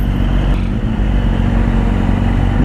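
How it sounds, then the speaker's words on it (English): Motorcycle engines rev loudly and close by on a ride with an old sportbike, a deep, steady roar with rough clatter and no talk. "Rev them engines up"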